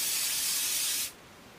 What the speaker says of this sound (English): Ooh, that's a big cloud of spray.